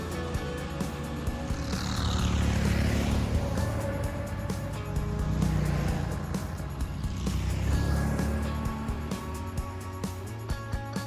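A Lynx 600 snowmobile with a 29 horsepower engine and a wide 600 mm track drones steadily while riding. The engine note swells and fades in long waves as it pulls along.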